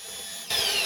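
A milling machine drives a homemade boring head fitted with a half-inch cutter, giving a short, close, steady high-pitched cutting whine that grows louder halfway through.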